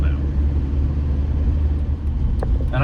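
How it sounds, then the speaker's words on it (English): Low, steady rumble of a Volkswagen BEW TDI diesel engine idling at 700 RPM with a stock AW4 torque converter, quiet and even, with a faint blower-fan hum alongside and a few light clicks near the end. "you can almost not even hear the engine at 700 RPM"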